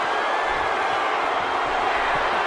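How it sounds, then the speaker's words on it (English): A wrestling arena crowd roars in a steady, dense wash of cheering that holds at the same level for the whole stretch, with no clear single voices standing out. "And listen to this crowd!"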